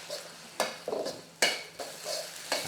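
Rice vermicelli being stir-fried in a wok, a spatula scraping and tossing in several sharp strokes over a soft, steady sizzle, close and clear with no talking.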